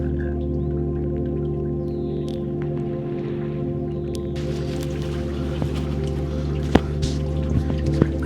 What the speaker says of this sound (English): rain on open water does sound very different from rain on land